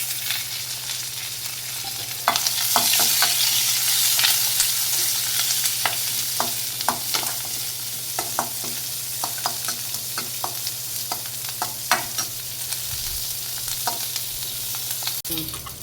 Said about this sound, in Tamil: அடுத்தது கடுகு, வெங்காயம், மிளகாயும் கருவேப்பிலை போட்டு நல்லா வதக்கிடலாம்.